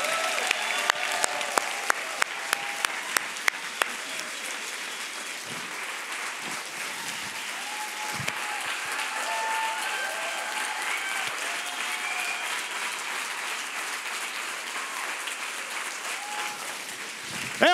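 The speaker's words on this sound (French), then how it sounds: "on peut applaudir fort que ça" Church congregation applauds the newly announced chapel pastors, a sustained crowd clapping with a few sharp nearby claps at first, scattered voices and cheers running underneath.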